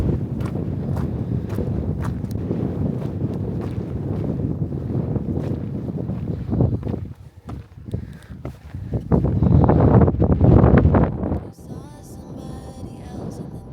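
Strong gusting wind buffeting the microphone on the summit of Hindscarth, a Lake District mountain, a constant loud rumble that dips briefly midway, then surges harder before easing into a softer roar.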